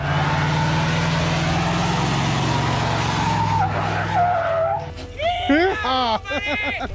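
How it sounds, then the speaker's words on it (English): A 1995 OBS truck with a 5-liter engine roars through a burnout, its tires squealing loudly and steadily before the noise drops away and excited voices and whoops take over. "You guys want to do a burnout?"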